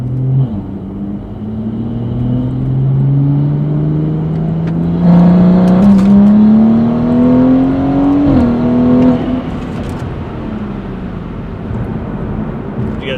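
A Gen1 B58 engine with rolling anti-lag holds a steady rising drone as boost builds over several seconds, then crackles and pops before easing off. The sound is loud and sustained throughout, with no talking.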